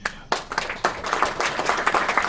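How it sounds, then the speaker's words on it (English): Applause from a podcast studio audience for guest Kriss Akabusi MBE: a brief burst of close clapping that starts abruptly and holds steady for a couple of seconds. "Round of applause, thank you."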